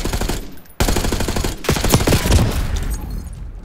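Rapid automatic gunfire from Call of Duty: Black Ops 6 rattles in loud, dense bursts. One short gap is followed by sustained volleys that slowly fade toward the end.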